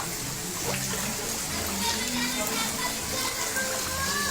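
Floodwater in Hyderabad runs through a residential lane and into houses, a steady broadband rush and trickle of water lasting throughout, with faint voices beneath.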